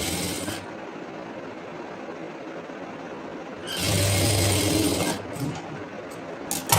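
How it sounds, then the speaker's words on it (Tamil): Sewing machine stitching the shoulder seam of a kurti at a half-inch allowance, a steady mechanical whir running continuously, close and moderately loud, swelling louder for a stretch near the end, with no talking. "½ இன்ச்சில் நான் ஸ்டிச் போடுறேன்."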